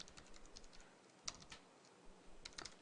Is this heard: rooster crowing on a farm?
no